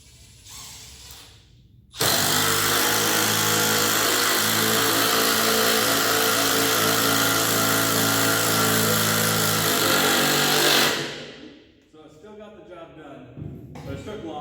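A small power drill drives a screw in one continuous whirring, ratcheting run that lasts about nine seconds, loud and close. It starts abruptly and winds down at the end, with quieter background sounds before and after.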